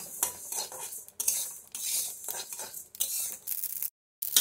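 Coriander and mustard seeds fry in a pan, with bursts of sizzling crackle broken by loud utensil scraping and stirring knocks against the pan, stopping briefly near the end.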